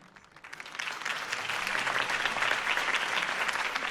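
A crowd in the Batman video game applauds after a Harvey Dent campaign speech, swelling from a few claps into dense, steady clapping that holds for several seconds at moderate loudness.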